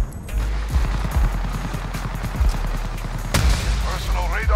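Rapid automatic gunfire in a shooter video game rattles in quick repeated bursts with heavy low thumps, loud and close, then a sharp blast, while a player talks briefly near the end.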